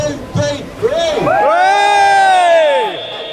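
A protest crowd at Trafalgar Square cheers and whoops loudly together, a rising collective shout that swells and holds for a couple of seconds before fading.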